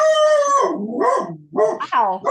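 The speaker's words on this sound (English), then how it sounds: "And the dog barks." A dog barks and howls in a few drawn-out, wavering yelps, loud and close, with short gaps between calls.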